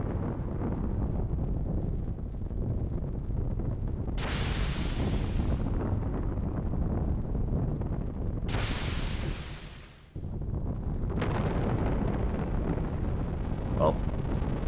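BART missile explosions in the Xenogears video game, a continuous heavy rumble punctuated by three bright, hissing bursts, loud and close throughout.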